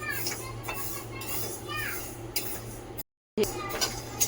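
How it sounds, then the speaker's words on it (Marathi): Mustard seeds dry-roasting in a pan for homemade pickle masala, giving light rattling and clinking of pan and utensil, with a brief silent gap partway through. "ही राई मी भाजून घेत आहे"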